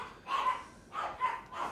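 Dogs barking in the Red Dead Redemption video game, two bursts of agitated barking and yelping close by, with a short lull between them and no talking.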